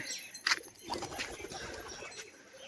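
Soft cooing of a Bali Jhuti pigeon close by, low and muffled, with a brief chirp near the start against a quiet background.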